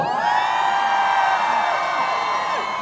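Festival crowd at a spring azalea festival cheering and shouting for a singer, one sustained roar of many voices with whoops rising above it, loud and steady throughout.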